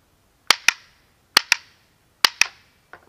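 A TALOS semi-auto rubber band gun by Precision RBS firing in quick pairs of sharp snapping shots, three pairs and then a fainter single, close and crisp against a quiet background.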